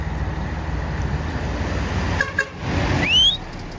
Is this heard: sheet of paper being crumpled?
no